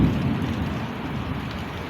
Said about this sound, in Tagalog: yan po ang ulan ngayong hapon